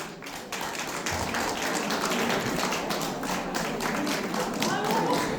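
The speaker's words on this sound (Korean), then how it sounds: "여기는 박수 치는 것도 교육받았나봐" An audience at a Daegu TBC song-academy event applauds in steady, even clapping, a continuous dense patter that holds at moderate loudness for several seconds.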